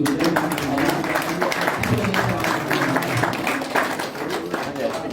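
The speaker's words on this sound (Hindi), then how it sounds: "जोरदार तालियां उनके लिए" An audience at a yoga and naturopathy health camp applauds with a dense, continuous patter of clapping while a voice talks over it.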